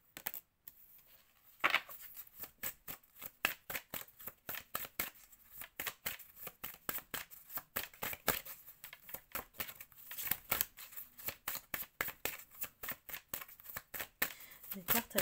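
Tarot cards shuffled by hand in a rapid, continuous run of crisp riffling flicks, close and clear, with a voice speaking softly over them.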